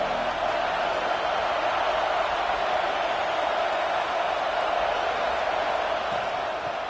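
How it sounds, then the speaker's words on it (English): A football stadium crowd roars in a steady, dense wash of cheering that holds at constant loudness throughout, with no distinct individual voices standing out. "This crowd ready to make its presence known."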